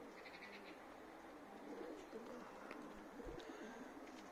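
Young racing pigeons coo and murmur continuously around a new pigeon loft, a soft, steady layer of cooing with occasional wing flutters and light knocks nearby.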